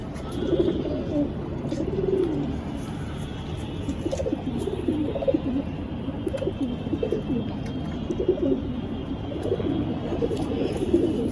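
Racing pigeons coo repeatedly in a loft, soft rolling low calls overlapping in a loose rhythm over a steady background hum, close and moderately loud with no talking.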